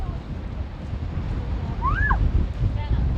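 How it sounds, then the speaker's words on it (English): Wind rumbles steadily against the microphone outdoors at sunset in Florida, with a brief high, chirping call rising and falling midway. "It's quite windy."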